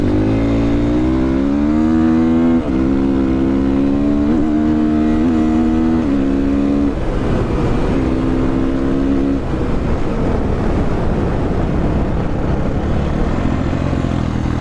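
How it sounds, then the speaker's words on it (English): A Motopro 300 motorcycle engine under way, with a strong harmonic drone that steps down through gear changes in the first half, then gives way to a rougher, broadband roar of engine braking and wind, loud and close. "Engine braking. Too many gears down."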